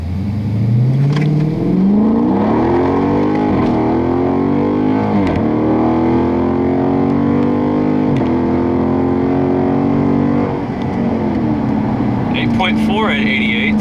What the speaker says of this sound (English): now here we go with the paddle shifters